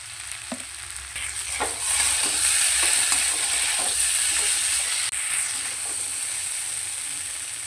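Fig and potato curry with spices stirred and sautéed in a pan, a loud continuous sizzle with a spoon scraping and stirring now and then, close by and without speech.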